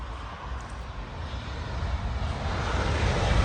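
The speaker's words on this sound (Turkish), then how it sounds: "Ve bir uçak daha geldi" A jet airplane roars overhead, a broad rumbling drone that grows gradually louder across the clip, with no speech.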